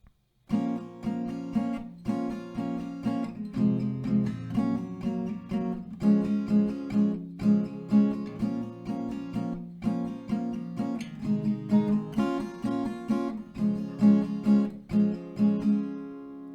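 An acoustic guitar plays a slow chord progression, each chord ringing out in turn, clear and close, with no talking.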